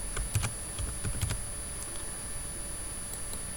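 A folder name is typed on a computer keyboard in short clusters of crisp key clicks, then a few sparse taps, close and clear over a faint steady background hum, no talking.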